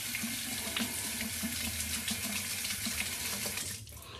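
Running tap water rinses a Harry's INK Chrome cartridge razor in a sink, a steady close faucet stream with splashing, cutting off and dropping away near the end.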